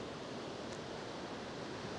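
Steady, broad roar of ocean surf washing against a rocky shore at Patrick's Point State Park, California, continuous and fairly loud with no distinct breaks or voices.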